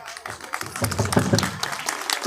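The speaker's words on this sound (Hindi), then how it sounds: "जो ताली बजा रहे हैं वो थोड़ा सोच समझ के बजाएं" Scattered clapping from an audience at a Buddhist festival talk, a loose patter of hand claps rising and thinning across a couple of seconds, moderately close in a hall.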